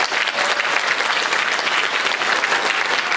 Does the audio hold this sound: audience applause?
yes